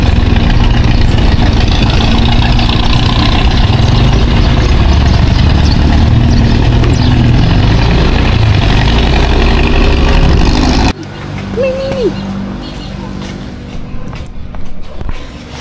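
A motorcycle engine idles at an animal quarantine checkpoint by a barangay hall on the Gingoog to Cagayan de Oro road, a steady close low rumble that cuts off abruptly near the end, leaving quieter ambience.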